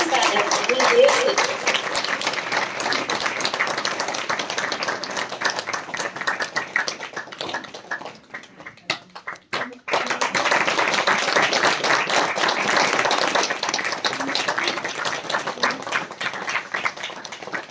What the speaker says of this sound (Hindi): उन्हें जोरदार तालियां बजाइए